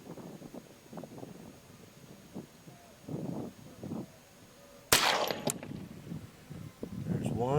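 A Ruger 10/22 rifle fires a single CCI Mini Mag round at a target, one sharp loud crack about two-thirds through, preceded by muffled talk and followed by mechanical rattling and rustle.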